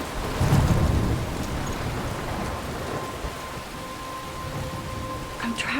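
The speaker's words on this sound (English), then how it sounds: "I'm trapped in a storm?" Heavy rain hisses steadily during a storm in the video game Life is Strange, with a low rumble of thunder near the start and a few faint game tones over the downpour.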